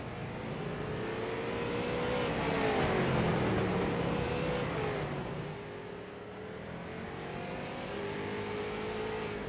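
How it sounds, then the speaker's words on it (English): Street stock race cars roar around a short oval in a racing video game, their engines a dense, continuous drone that swells and fades as the pack passes, with revs rising and falling. "Looks like these street stocks are a little quieter than the cars that we were working with beforehand."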